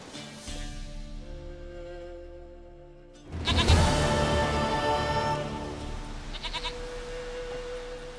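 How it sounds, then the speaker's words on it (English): A goat bleats in The Witcher 3: Wild Hunt, drawn-out wavering bleats over a steady game music bed, rising louder midway and repeating. "Goat of mine, dearest, sweetest goat."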